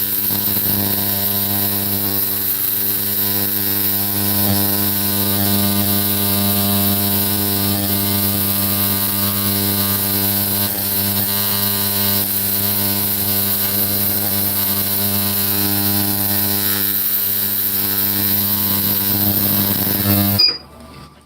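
A steady, loud electrical hum from an ultrasonic cleaner on a jewellery-making bench runs unbroken for about twenty seconds with no talking, then cuts off abruptly at the end.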